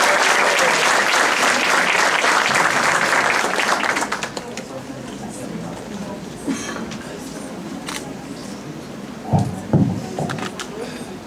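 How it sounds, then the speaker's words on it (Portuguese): Lecture audience claps loudly and steadily for about four seconds, then the applause fades to scattered claps and room noise, with a few thumps and light voices afterward. "Palmas para ele."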